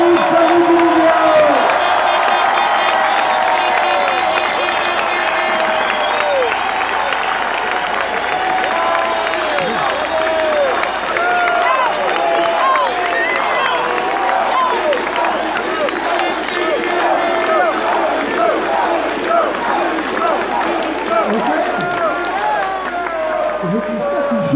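A large outdoor crowd at a Paris march against the health pass applauds, cheers and whoops loudly and continuously, with shouting and babble mixed in throughout.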